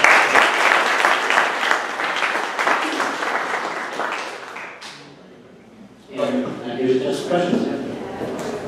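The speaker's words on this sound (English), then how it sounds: "Let's give a round of applause for Flyreel." Audience applause at a startup pitch event, loud sustained clapping that tapers off over about five seconds before a voice begins speaking.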